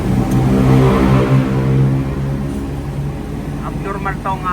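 A trailer truck's air-conditioning compressor runs abnormally, producing a loud, close, steady droning hum with layered tones that wavers slightly, with a voice talking over it.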